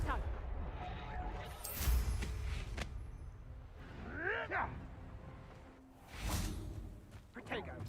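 A Confringo blasting spell cast in Hogwarts Legacy gives a whooshing, explosive burst with crackling tails. Several blasts and swishes follow in quick succession over a busy game background, with a voice talking throughout.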